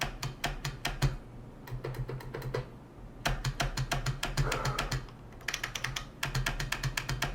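Keys of an IBM Model M buckling-spring keyboard clack close up in quick bursts of typing, with short pauses between runs of presses.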